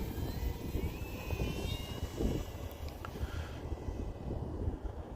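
An Arrows Husky 1800mm RC airplane flies at a distance, its motor a faint thin drone under heavy wind noise buffeting the microphone outdoors.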